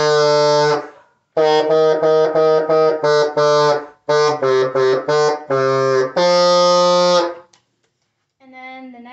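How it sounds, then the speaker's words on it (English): A bassoon plays the opening line of Jingle Bells: a string of short repeated notes grouped in quick clusters, a couple of longer held notes, then a pause before a brief softer entry at the end. "So here's what that first line sounds like."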